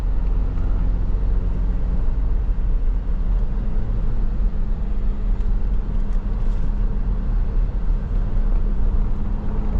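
A new SUV is driving on the road, heard as a steady, loud cabin rumble of engine and road noise that holds an even level throughout with no talk.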